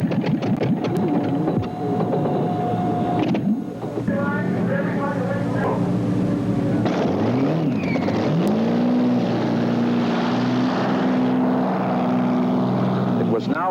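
A hydroplane race boat engine, just repaired, sputters and catches on the water, then settles into a loud sustained roar with a rising whine, under a narrator's voice.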